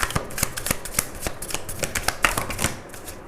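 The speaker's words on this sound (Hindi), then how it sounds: "चलिए मैं कार्ड निकालती हूँ, स्वाइप शफल करती हूँ" Tarot cards are shuffled close up in quick, uneven bursts of papery riffling and soft slaps that repeat throughout with no talking.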